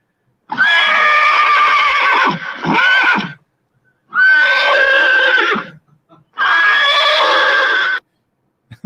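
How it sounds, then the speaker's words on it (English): Three loud horse neighs in a row, each a long shrill whinny lasting a second or more, separated by short silences, heard alone as a sound effect. "that's a horse neighing sound effect, in case you're wondering"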